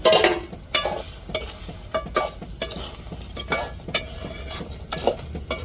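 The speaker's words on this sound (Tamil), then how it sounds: "நண்டு கொஞ்சம் வேகட்டும்" Crab cooking in a pan with frying powder being added, giving a steady sizzle broken by repeated stirring scrapes and light clinks of utensil on metal, close and fairly loud.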